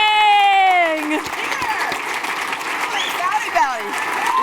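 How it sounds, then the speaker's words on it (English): An audience bursts into steady applause that swells and continues, with a voice speaking over the start and occasional cheers rising through the clapping. "applause for the courageous Billie Jean King."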